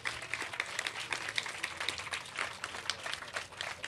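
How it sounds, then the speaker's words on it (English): An audience at a mayor's education results announcement applauds school leaders, a dense, steady wash of clapping from a room full of people lasting the whole stretch. "big round of applause for all of our school leaders"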